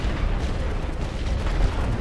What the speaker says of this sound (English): we're also going to drop some suppressive fire on that trench